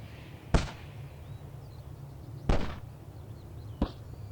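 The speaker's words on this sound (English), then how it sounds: "The sound of small explosions cuts through the silence of the moors" Three sharp, sudden pops ring out over quiet moorland, spaced about two seconds apart and then one second, as moss spore capsules burst with tiny explosions; the pops are close and crisp against a low steady background hum.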